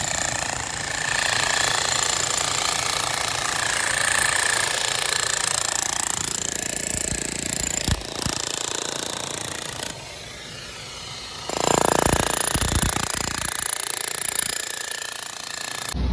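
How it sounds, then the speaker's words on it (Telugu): A jackhammer pounding at a bridge construction site in Anantapur, loud and close, a continuous rapid rattling that runs for long stretches with brief pauses and restarts. "డ్రిల్లింగ్ చేస్తున్నారు చూడండి ఎంత బాగా వేస్తున్నాడు"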